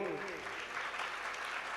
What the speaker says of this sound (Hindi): जो कर रहे हैं उनकी अच्छी ताली बजा करके अनुमोदना करना।